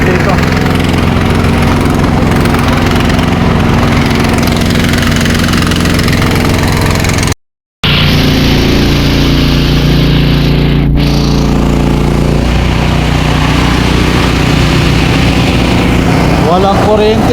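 Power generators run during a citywide blackout in cold Baguio City, a loud steady engine drone with rumbling vibration, continuous and close, with a brief gap partway through.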